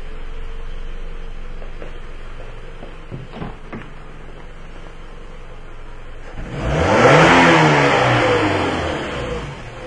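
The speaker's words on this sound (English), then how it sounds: "when we do the snap throttle test" A Toyota Camry engine with air/fuel sensor fault codes idles steadily, then a single quick snap of the throttle sends it revving sharply up and back down, close and loud, without talk.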